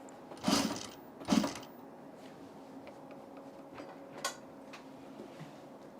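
A sewing machine's thread cradle rattles against the tabletop in two short, sharp bursts as the machine revs, followed by faint intermittent ticking.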